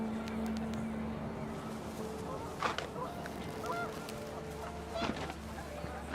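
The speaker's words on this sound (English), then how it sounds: "panicked geese appeared and quickly went" Geese honking in a few short calls, with bursts around mid-clip and near the end over a steady low background rumble, moderately close.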